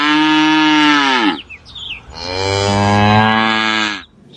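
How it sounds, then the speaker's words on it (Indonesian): An Indian cow moos twice in close succession, both long, loud, drawn-out calls separated by a brief gap, with nothing else heard around them. "Wadidaw, ini sapi teman-teman."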